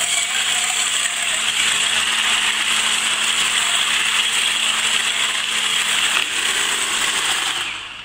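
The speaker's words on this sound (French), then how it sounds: "je mets une petite pincée de sel et on va le fouetter. Donc là j'utilise un petit robot" A small electric mixer whisks egg whites with a pinch of salt, giving a steady, close whirring motor drone with a faint rattling texture that holds evenly before easing off at the very end.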